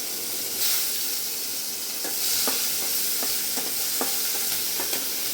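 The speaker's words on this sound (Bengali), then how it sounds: "সুন্দর গন্ধ বেরিয়ে যাওয়ার পরে পেঁয়াজ কুচি দিচ্ছি, সামান্য পেঁয়াজ কুচি।" Chopped onion sizzles in hot oil while being stirred, a constant hiss with regular light clicks of the spatula against the pan, close by and with no voices, as a Bengali mango and brinjal sour dish is cooked.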